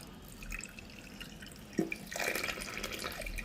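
Water is poured onto a small potted plant cutting, a soft, quiet trickle and a few drips rising near the end, with no talking.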